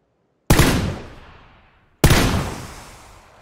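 Two loud gunshots in a shooter game crack about a second and a half apart, each trailing into a long, fading echo, with no talk.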